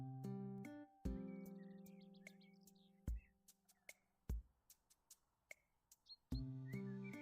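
Small birds chirp in a renovation video game, faint scattered high tweets and short calls drifting between sustained electronic tones and sharp clicks, quiet and sparse rather than a full chorus.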